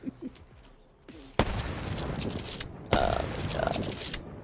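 Gunfire in a shooter video game: sharp bursts start with a sudden blast and then run as sustained loud spraying fire, with a second burst cutting in partway, after brief quiet talking at the start.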